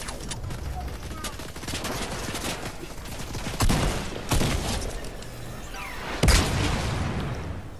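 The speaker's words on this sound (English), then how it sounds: "I shot dude 3 times and only one shot hit" Fortnite gunfire, repeated bursts and sharp single shots with a couple of louder heavy blasts standing out, mixed with game noise and occasional voice chat.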